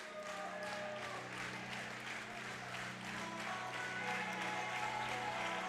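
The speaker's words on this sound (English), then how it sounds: "We'll let this suspense build for a moment as this crowd comes alive and comes to their feet." A crowd at a high school boys basketball district tournament final in Kentucky applauds steadily and grows livelier, the clapping a dense, sustained wash heard from within the gym with no voices on top.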